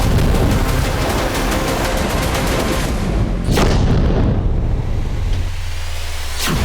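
Blasts from Russian strikes on western Ukraine on a Sunday morning: dense, loud booming and rumbling throughout, with two sharp bursts standing out near the middle and again at the end.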